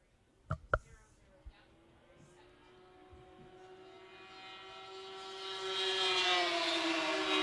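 After a few sharp knocks, racing snowmobile engines (Polaris and Ski-Doo) whine in from a distance, rising steadily in pitch and loudness until the sleds roar close at a snow-track race.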